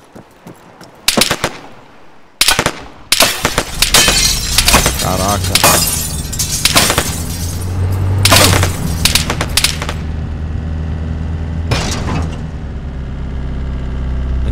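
Gunfire in the Arma 3 battle royale video game, a dense run of sharp close shots and bursts over a steady low engine rumble, with a man briefly exclaiming.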